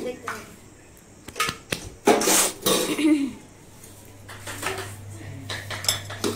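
Dried chickpeas tipped into a pressure cooker: clattering metallic clinks and rattles in short bursts, with a stronger rush of pouring near the middle, a low steady hum underneath and someone talking between the bursts.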